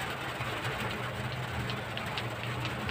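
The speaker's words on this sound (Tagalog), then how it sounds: "Kana ulan-ulan na to." Steady rain patters on a surface at sea during a fishing trip, a dense continuous hiss with a low engine drone underneath.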